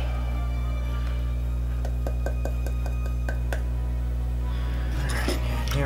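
A spoon clinks and scrapes against a bowl while sugar and cornstarch are stirred together, a run of light taps over a steady low hum, followed by softer rustling scraping near the end.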